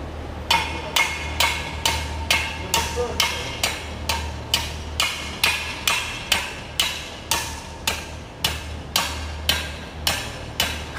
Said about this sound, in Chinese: 就是要先将这个钢管的一头往土里砸砸砸砸砸